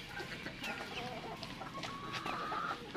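Black Australorp chickens and small chicks in a brooder during a power outage, with soft clucks and thin high peeping calls scattered throughout, fairly quiet and close, with no one talking.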